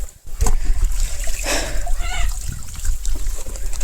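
Canal water splashing and sloshing as a vehicle is washed outdoors, loud close splatters and trickling, with voices mixed in.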